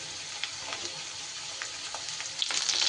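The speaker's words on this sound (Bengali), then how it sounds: "আলুগুলো ভাজা হয়ে গেলে আমার ওর ওপরে দিয়ে দেবো আমি পটলগুলো" Potato pieces and pointed gourd fry in a pan, making a continuous close sizzle with small crackles that grows louder and busier near the end, with no voices.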